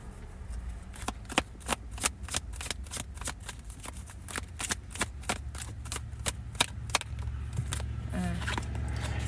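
Tarot cards are shuffled close by in a quick, steady riffle of snapping flicks that runs for several seconds before a short pause and a few final taps.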